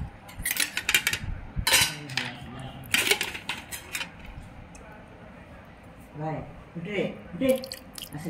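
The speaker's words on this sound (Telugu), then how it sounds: "చూడండి, చేపల కూర ఇలా కలుపుకోవాలి" Fish curry is stirred in a pot in a home kitchen, giving a series of clinks, scrapes and wet squishes of a utensil against metal in irregular bursts, heard close up alongside a person talking.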